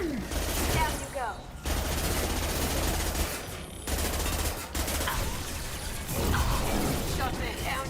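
Gunfire in Mass Effect 2 rattles in dense bursts separated by brief pauses, loud and near, with a voice speaking over parts of it.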